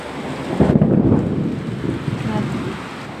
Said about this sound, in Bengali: পুরো অন্ধকার করে বৃষ্টি নেমে এসেছে।